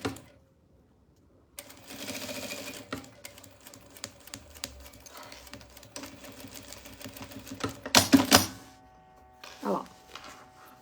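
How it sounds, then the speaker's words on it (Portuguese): Domestic sewing machine running a straight seam on fabric for a double zippered cosmetic bag, a steady mechanical whir in bursts with short pauses, then a brief reverse stitch and a louder clatter near the end. "Parei a costura, uma costura reta, fiz um retrocesso."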